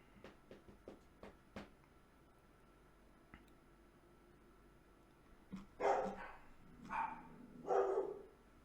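Dogs bark indoors as someone nears the door, starting with a few faint, sharp yips and clicks, then three loud, deep barks in close succession toward the end.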